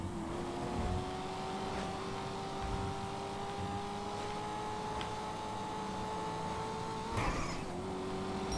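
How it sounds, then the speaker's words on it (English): A car drives steadily in GTA Online, its engine holding a sustained hum with a brief rev near the end, heard alone without talk. "Look, I'm doing something most people don't do in this game. I'm driving a car."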